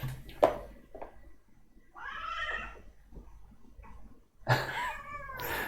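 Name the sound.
cat meowing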